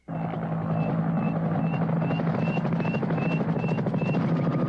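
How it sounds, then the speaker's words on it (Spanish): A helicopter in an action film whirs loudly and continuously, its rotor thumping in a fast even rhythm with a steady droning whine over the top. "Usaremos el helicóptero de François."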